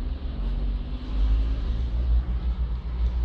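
A city bus bound for Sveti Križ in Rijeka gives off a loud, continuous low engine rumble, steady and close throughout.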